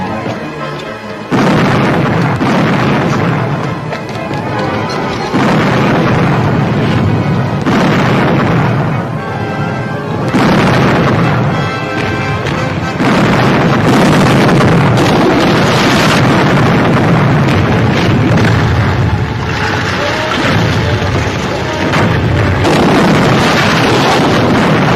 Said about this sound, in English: Man the guns, return the fire.